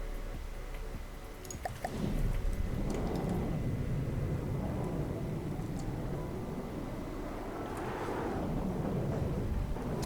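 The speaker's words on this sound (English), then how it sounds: "Oh, and large missiles took out most of it, and oh, looks like the huge missile took out the rest" Heavy missiles blast an enemy marauder ship in From The Depths, producing deep rolling booms that swell and fade over a constant low rumble, loud and close.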